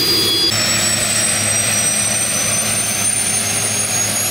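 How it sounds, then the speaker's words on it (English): A jet-powered experimental race car's turbine gives a loud, steady roar with a high whine that shifts slightly in pitch, continuous and close throughout. "This is a jet-powered experimental race car."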